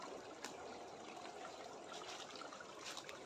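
Rainwater runs in a faint, steady trickle down a mountainside on a remote island, a soft continuous splashing with no voices.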